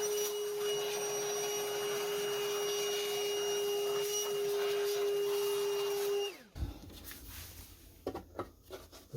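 A small vacuum cleaner whines steadily at close range while cleaning dirt from a 104-year-old Corona 3 manual typewriter, then its motor winds down and stops, followed by light clicks and knocks.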